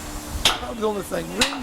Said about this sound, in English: as you can hear them hammering in the background